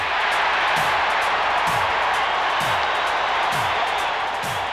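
A large crowd at Shea Stadium roars continuously and loudly through a 1986 New York Mets baseball game, a dense wash of cheering with faint rhythmic low thumps underneath.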